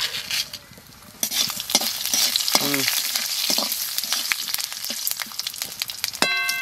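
Bay leaf and dried chillies fry in hot oil with a loud, continuous close sizzle, dotted with sharp crackles and spattering pops and a few clinks of a utensil against the pan.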